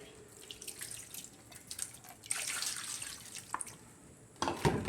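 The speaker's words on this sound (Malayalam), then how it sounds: "കുറച്ച് വെള്ളം ഒഴിച്ചു കൊടുക്കാം" Water poured into a spiced fish marinade in a bowl, a soft, fairly faint trickle and splash lasting several seconds, ending in a louder stir or clatter near the close.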